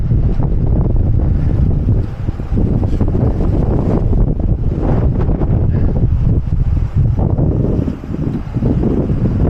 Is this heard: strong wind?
yes